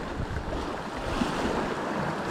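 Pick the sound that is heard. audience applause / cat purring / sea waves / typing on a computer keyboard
sea waves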